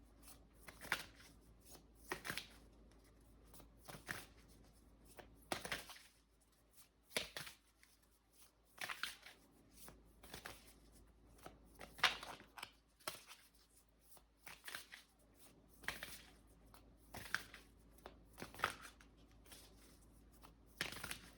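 Soft, intermittent riffling of tarot cards being shuffled, short brushing bursts recurring irregularly, close and quiet with no talking.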